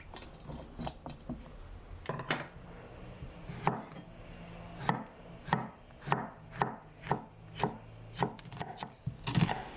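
A knife slicing blanched okra on a cutting board, a steady run of sharp, close chops, sparse at first and then settling into an even rhythm with a sharp knock at the very end.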